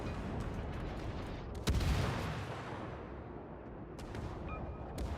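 Ship guns firing in World of Warships during a Halloween event mode: one heavy boom lands near the middle over a constant low rumble of battle noise, with a few faint sharp reports toward the end.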